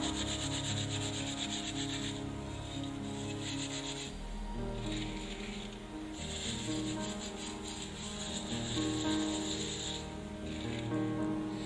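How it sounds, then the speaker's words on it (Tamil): A scrub pad rubbed with cleaning liquid over a metal pooja lamp gives repeated close, gritty scrubbing strokes in an uneven back-and-forth rhythm, fairly quiet and with no voices. "இதுல நம்ம ஏற்கனவே மிக்ஸ் பண்ணி வச்சு அந்த லிக்விட்டை இதுல நல்லா தேய்ச்சி அப்ளை பண்ணணும்"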